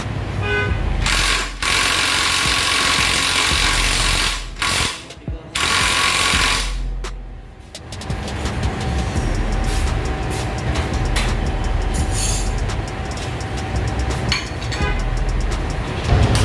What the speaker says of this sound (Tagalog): So gagamit tayo dyan ng impact.